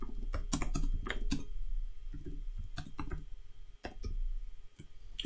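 Someone types on a computer keyboard nearby in quick, uneven bursts of crisp clicks, with short pauses between runs of keystrokes.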